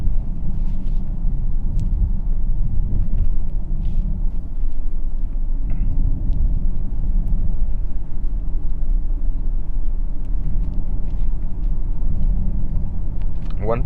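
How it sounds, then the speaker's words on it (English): A 2021 Genesis GV80 2.5T Prestige 4WD cruising on the road gives a steady low tire rumble and road noise from inside the cabin, constant throughout with a person talking over it. "I think you hear a little bit of like the tire noise"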